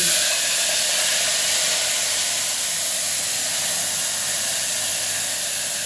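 Loud, continuous hissing sizzle from mung beans hitting hot oil tempered with mustard and cumin seeds, steady and close without pause, no talking.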